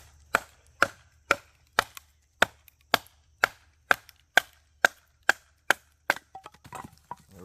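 A Cold Steel SRK knife chops down into a log in about a dozen sharp, evenly spaced wooden strikes, close and crisp, with a few scrappier knocks at the end and no talking.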